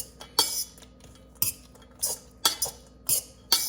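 Quinoa salad tossed with a utensil in a bowl, giving repeated sharp clinks and scrapes in an irregular rhythm, close and fairly loud with no voices.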